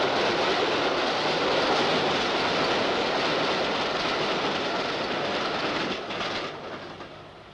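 A train running along a railway line near Doncaster, a loud, steady rolling rumble with rhythmic wheel clatter that holds close for several seconds before easing slightly near the end.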